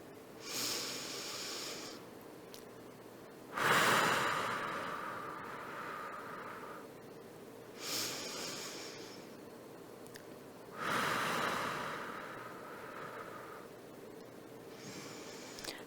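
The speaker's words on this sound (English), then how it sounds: "Let's take a few deep breaths." Slow, deep breaths are drawn in through the nose and let out through the mouth in a calm guided breathing exercise, four long breath cycles spaced evenly, close and quiet, with no talking.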